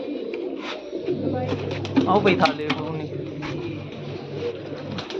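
Pigeons in coops coo in low, soft, repeated murmurs beneath nearby talking voices.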